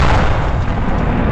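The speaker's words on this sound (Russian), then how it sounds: "Выстрел." A single heavy T-72 tank cannon blast booms close and loud, its rumble filling the short moment with no voices.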